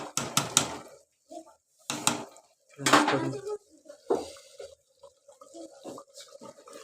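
Mutton curry with masala being stirred in a pot, heard as several close, clattering bursts of a spoon scraping and knocking against the metal, with quiet gaps and softer scrapes in between.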